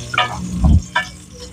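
Garlic sautés in a pressure cooker pot at the start of a beef soup, a brief close sizzle with a stirring scrape in the middle.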